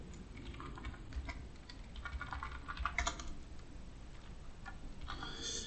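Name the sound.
typing on a computer keyboard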